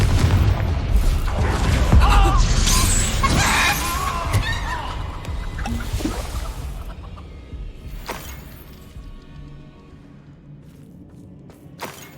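A heavy Hogwarts Legacy Confringo spell explosion booms out with crackling debris and rumble, then fades into a quieter, echoing tail with a few scattered thuds.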